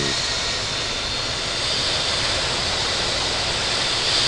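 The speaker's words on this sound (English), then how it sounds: "KLM 1022, runway 27 right, cleared for immediate takeoff." A KLM airliner in a flight simulator game rolling for takeoff on Heathrow runway 27 right, a loud, steady broadband jet roar that swells slightly toward the end, with no talk.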